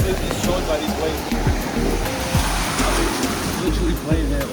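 Steady roar of ocean surf beside a cruise ship, with crashing wash and churning water filling the whole stretch, a voice faintly present under it.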